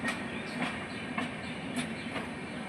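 A long passenger train of about 40 carriages rolls steadily past, its wheels clicking in a regular clickety-clack over the rails amid a continuous loud rumble.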